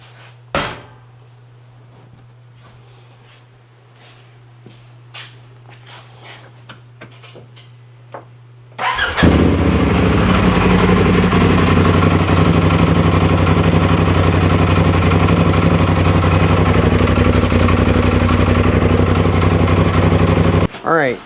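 A car engine cranks and catches after a quiet stretch of small clicks and a steady hum, then idles loudly and evenly in park until the end.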